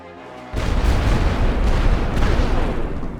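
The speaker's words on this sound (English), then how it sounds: "These are asking for artillery barrages." A heavy artillery barrage from a Great War Western Front video game, starting suddenly after a quiet moment into a dense, continuous roar of overlapping booms and blasts that stays loud throughout.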